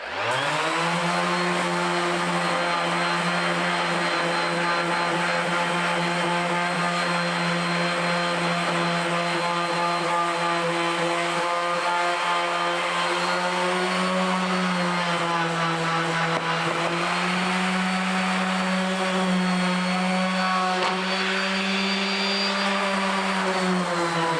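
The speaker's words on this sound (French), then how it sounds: "Donc ponceuse excentrique, c'est parti." Random orbital sander working the edges of a wooden cutting board, a steady loud motor hum with a constant whir, running alone and close with only slight shifts in pitch near the end.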